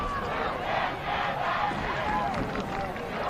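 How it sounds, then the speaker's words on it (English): A home-side crowd at a high school division championship football game booes a late penalty flag, a loud sustained mass of jeering voices filling the stands without a break. "Crowd doesn't like it here on the home side."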